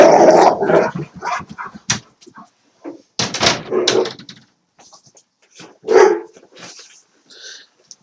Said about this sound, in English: Wound the dog up.